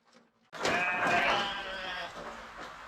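A sheep on a farm lets out a single loud, drawn-out bleat that starts after a brief quiet and trails off over about two seconds.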